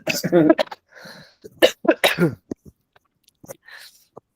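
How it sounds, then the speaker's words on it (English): Several sharp coughs burst out close to the mic in quick clusters, separated by short pauses, with a final softer cough near the end. "Just gonna cough."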